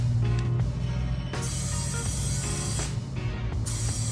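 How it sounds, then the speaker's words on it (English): A pump forces air into a tire during a DIY plug repair, giving a steady, loud mechanical drone with a rhythmic pumping pulse throughout and no talking. "I got my pump ready. Go ahead and put some air in the tire."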